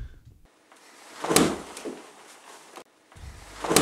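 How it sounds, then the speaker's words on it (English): Head slamming into a wall during a music video shoot: a sharp thud lands partway through, followed by a smaller knock and a later impact, amid shuffling movement. "I kind of slammed my head right into the wall"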